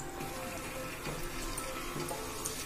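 Water pours into a cooking pot while making venpongal, a soft steady splash of liquid running for a few seconds, fairly quiet.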